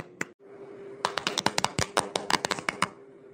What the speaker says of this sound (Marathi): त्यांचं टाळ्या वाजून तुम्ही स्वागत करावे